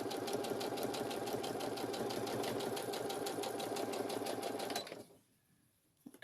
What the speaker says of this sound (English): So we then line up our fabric again and continue to stitch.